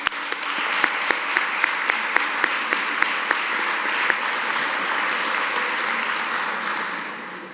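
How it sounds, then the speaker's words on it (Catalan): Audience at a charity gala in Biar applauding, a dense wash of clapping with a few sharper individual claps standing out, steady and moderately loud throughout before easing slightly at the end. "Un fort aplaudiment per a ells."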